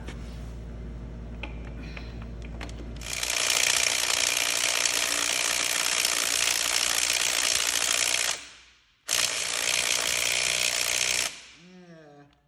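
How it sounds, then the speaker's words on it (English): A Mac Tools 1/4 inch impact driver hammers on car lug nuts in two loud, sustained, rattling bursts with a brief pause between, then winds down, close to the mic. "A Mac Tools 1/4 inch driver."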